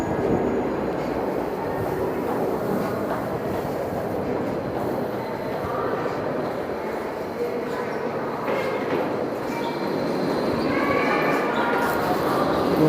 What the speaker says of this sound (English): So now we're at the 163rd subway station